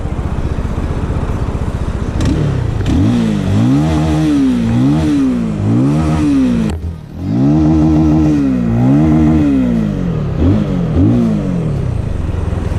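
A Benelli 251S motorcycle engine runs loud and close, revving up and down repeatedly as it rides, with a brief dip before climbing again.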